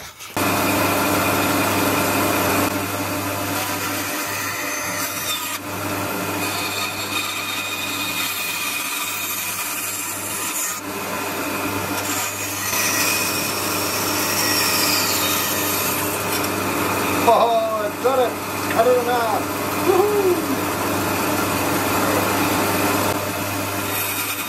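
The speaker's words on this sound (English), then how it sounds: "run it in the bandsaw and cross our fingers and hope for the best" A bandsaw cuts through a drilled wooden piece, running as a steady, loud whine and rasp under a constant motor hum for the whole stretch, with the blade load shifting and squealing in the later part.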